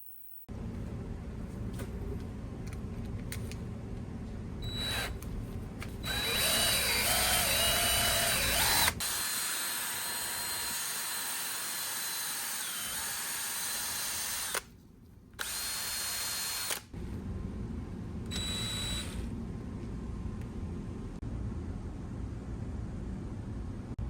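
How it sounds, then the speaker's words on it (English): Handheld power drill spinning scuff pads against jet ski engine valves to strip surface rust and carbon, a steady high whirring grind that runs in long bursts with brief pauses between them, close and loud with no talking. "Some scuff pads and a drill make quick work of cleaning surface rust and carbon off of the valves."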